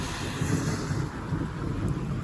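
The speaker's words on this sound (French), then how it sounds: "Mais on ne voit pas les impacts, hein, mais ça gronde." Low thunder rumbles steadily through a morning thunderstorm, a deep continuous roll with no sharp crack, heard outdoors under light wind noise with no voices.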